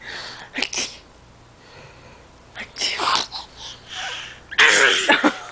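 A young child makes several breathy fake sneezes, short gasping bursts followed by a louder final one, close to the microphone with light background hum.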